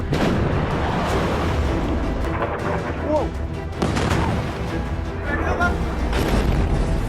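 Iranian missile exploding over Israel, a loud booming blast with rumbling, crashing noise that carries steadily through the clip, and a voice heard faintly underneath.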